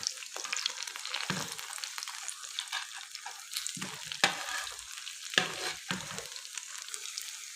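Potato pizza bites frying in oil until golden, a moderate crackling sizzle broken by occasional scrapes and taps as the pieces are turned, with no voices.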